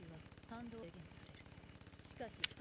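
Rapid machine-gun fire in a Girls' Frontline anime episode rattles quietly in the background as a steady stream of shots under people talking, with a sharp louder burst near the end.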